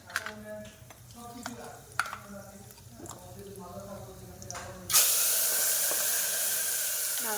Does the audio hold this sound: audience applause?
no